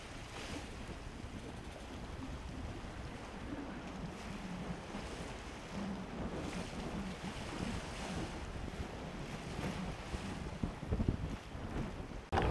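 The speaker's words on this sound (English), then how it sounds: "Here the wind's blowing 10 or 12 knots, and although it's a little lumpy, we're nice and dry in this Tyee Spirit 14." Wind gusts and lumpy, choppy water wash around a Tyee Spirit 14 sailboat in a 10 to 12 knot breeze, a continuous soft rushing with microphone wind buffeting and occasional slaps of water.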